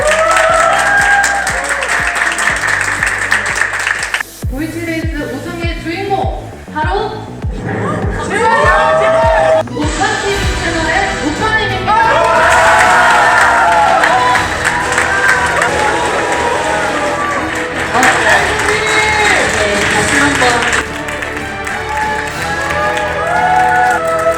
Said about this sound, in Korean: 네 분께 큰 박수 부탁드리겠습니다